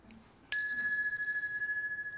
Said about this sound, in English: we would like to let the bell song be heard